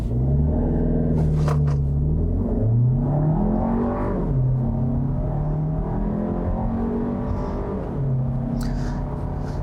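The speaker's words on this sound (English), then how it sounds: "let's try doing a little brake torque here" A 2020 Volkswagen Tiguan R-Line's turbocharged engine is revved in sport mode while brake torquing, heard from inside as a loud, steady rumble with rising and falling pitch sweeps throughout.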